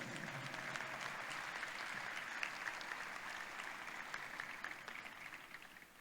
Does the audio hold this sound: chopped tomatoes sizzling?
no